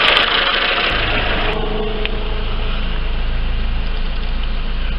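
Lifan car engine idling after a Remet additive treatment, a steady, loud, close mechanical hum with an even low rhythmic pulse and no speech.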